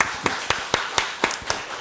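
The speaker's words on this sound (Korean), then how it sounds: "박수로 환영하겠습니다" Rhythmic clapping welcomes a new member at a Sunday church service, sharp evenly spaced claps about four per second, close and clear with a faint background wash.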